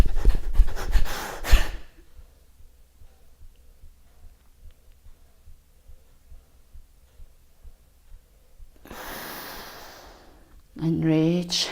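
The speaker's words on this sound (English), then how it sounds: "So let's go. Kapalabhati breath." In a yoga class, Kapalabhati breathing sends out a steady train of short, forceful nasal exhalations in quick, even rhythm. The breaths are fairly soft and close, with a voice speaking before and after them.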